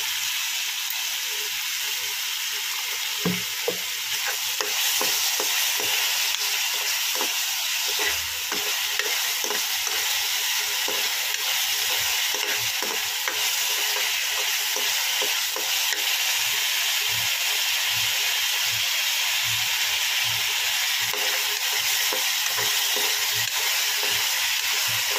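Pieces of green banana (raw plantain) fry in hot oil for kachkola kofta, giving a steady broadband sizzle with scattered pops and crackles throughout, loud and close, with no talking.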